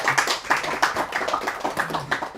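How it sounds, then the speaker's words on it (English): An audience applauds to welcome a speaker with a short burst of scattered hand claps. The clapping is moderately loud and uneven, rising and falling over a couple of seconds. "join me in putting your hands together to welcome Kojo Koram"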